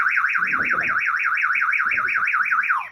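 A security tag alarm from an anti-theft shop-lifting system, set off after its wire is cut, sounds a loud continuous warbling siren that sweeps up and down steadily, with faint voices briefly under it.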